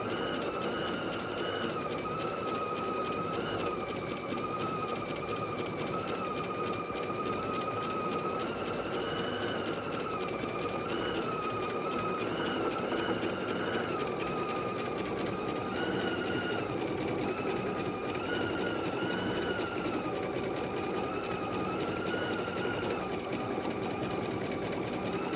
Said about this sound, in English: According to my stitch out progress, I have 1 minute to go.